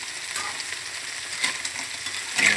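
Clams (halaan) sizzle and fry in a hot pan while being sautéed, a steady crackling hiss with brief stirring scrapes and a louder burst near the end, close and continuous with no talking.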